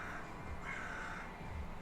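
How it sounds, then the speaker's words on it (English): A crow cawing outdoors, a single faint harsh call rising briefly over low background hiss. "Do you hear that fucking bird?"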